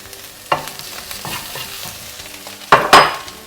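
Onions and grated garlic frying in a pan for a paneer bhurji pie filling, a soft sizzle broken by a few sharp stirring scrapes and clatters near the end.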